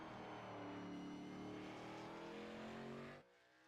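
Xfinity Series race cars roar around the Martinsville track, a dense, steady engine drone with layered harmonics that holds loud and then cuts off abruptly near the end.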